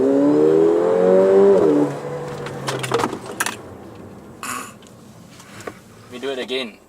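A Mercedes-Benz GLA45 AMG revs hard on launch control, its engine note climbing loud and close for about two seconds, then cutting away to scattered clicks, knocks and a brief rising whir.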